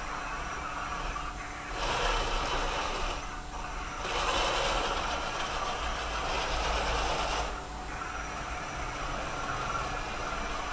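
A gamepad-controlled PiRobot Create robot drives around, giving a steady whirring, hissing drive noise that swells louder a few times as it moves, with no talking.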